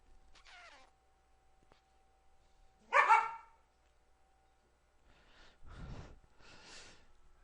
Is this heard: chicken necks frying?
no